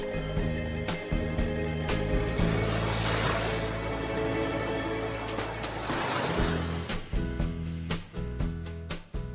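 Surf washing onto a turquoise beach in Ortigia, Syracuse, a steady broad wash of breaking waves with wind gusting across the microphone and sharp knocks and rumbles breaking in.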